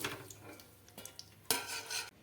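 Potatoes fry in oil in a pan, a faint sizzle under scraping and stirring, with a sharper metallic clatter and a louder burst of frying in the second half.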